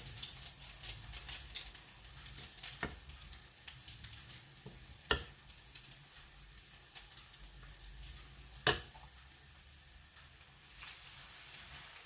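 Sandwiches pressed filling-side down into a hot pan give a faint, continuous crackling sizzle, broken by a few sharp clicks and taps from the pan and utensils, with no talk.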